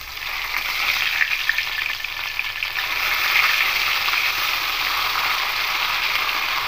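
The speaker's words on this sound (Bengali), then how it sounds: "তারপরে মাছগুলো ভেজে নেব।" Large fish pieces fry in hot oil in a pan, a loud, continuous sizzle and crackle that holds steady throughout with no talking.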